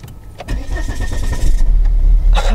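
A diesel car that has been filled with petrol is cranked and starts, a short whirring crank giving way to a rough, loud idle close by.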